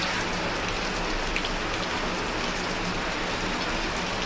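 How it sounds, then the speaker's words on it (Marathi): Steady, heavy rain pours down without pause, a dense even hiss of drops hitting surfaces all around. "पाऊस पण चालू आहे"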